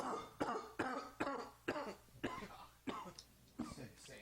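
A series of about eight harsh coughs in steady succession, close and loud, each burst dropping off quickly before the next.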